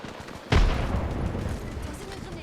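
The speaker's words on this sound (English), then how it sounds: "Tossing a grenade." Grenade explosion in Gundam Battle Operation 2, a single sharp, loud blast that hits suddenly and then decays into a rumbling tail over background battle noise.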